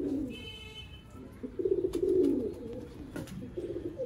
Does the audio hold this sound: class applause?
no